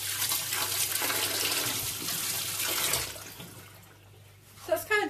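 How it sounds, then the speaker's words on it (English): Hands washed under a running kitchen tap: a steady rush of water splashes for about three seconds, then fades to quiet before a few short clatters near the end. "Let me wash my hands."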